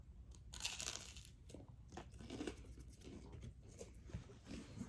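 Someone bites into over-toasted toast, producing faint, close crunching and tearing sounds that repeat irregularly over quiet background noise.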